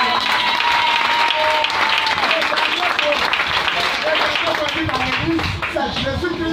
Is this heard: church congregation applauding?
yes